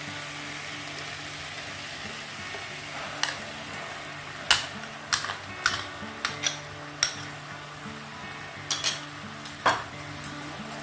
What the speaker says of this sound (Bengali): এবার আমি এতে দিয়ে দেব সর্ষে পোস্ত আর দইয়ের পেস্টটা।